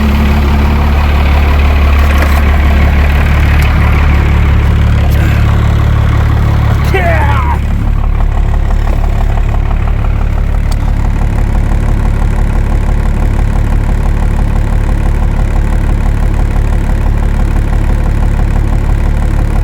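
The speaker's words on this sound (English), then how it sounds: "Let it warm up a little bit. See how she responds." A car engine idles steadily at fast idle while warming up, a loud continuous low rumble throughout, with a brief shift in tone early on before settling into an even drone.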